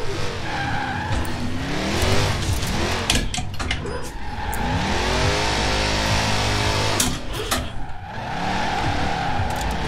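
A Dodge Hellcat muscle car in Forza Horizon 4 drifts with a loud, rising and falling V8 roar and long tire squeals, close and continuous throughout with no speech.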